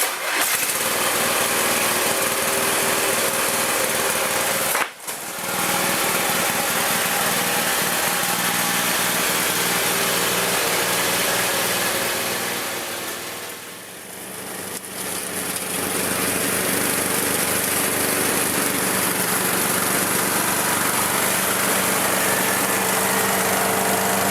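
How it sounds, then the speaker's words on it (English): A restored Murray riding lawn mower engine runs loud and close for the whole stretch, a steady throaty drone with a brief stutter early on and a short dip in revs midway. "It's ready to get off these ramps and go mow some grass and see how it works."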